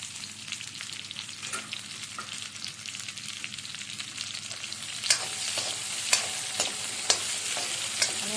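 Chopped onion, green chilies and garlic shallow-fry in oil in a pan, with a loud, steady sizzle throughout and sharp spatula clinks striking the pan every second or so in the latter half.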